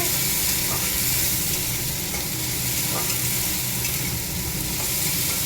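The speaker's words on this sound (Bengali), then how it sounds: "একবারে মশলার সাথে ভাজাও হয়ে যাবে।" Prawns frying with ground ginger and cumin spice paste in a pan make a loud, constant sizzle and hiss, with stirring scrapes running through the whole stretch, close up and without speech.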